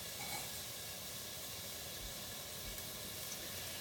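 Sliced bacon cooking in a pan gives a soft, steady hiss of frying, faint and continuous with no other sounds.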